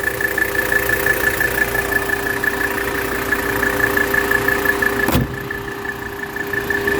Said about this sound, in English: Very, very healthy engine.